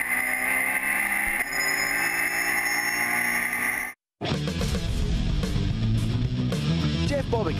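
A Porsche GT3 Cup car races through the final corner and onto the front straight. The engine drones loud and steady, cuts out sharply for a moment at a gear change, then roars back with a raspier, rising note.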